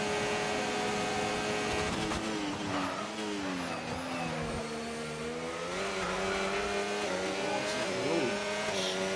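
An Aston Martin race car engine revs and accelerates at a Las Vegas race, a loud, close, continuous whine with pitch rising and dipping through gear changes and throttle lifts, steady and sustained without talk.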